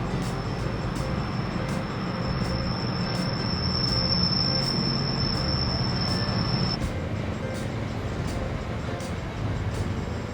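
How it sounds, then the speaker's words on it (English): A freight train from the Hope Cement Works rumbles past steadily at close range at Dronfield, with a sustained high metallic wheel squeal over the first part before it cuts off. "here is a rare sight of a freight train from the Hope Cement Works"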